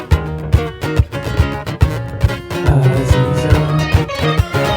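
Guitar playing a song's chord progression over looped tracks, with rhythmic strummed chords and percussive hits in a steady beat, loud and close with no talk.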